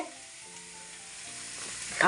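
Eggplant slices fry in hot oil in a pan, a steady close sizzle with faint crackles that rises slightly toward the end.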